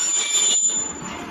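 Train rolling past on rails as a radio drama effect in a German crime play, a steady close, loud rumble with high metallic wheel squeal running throughout, no voices.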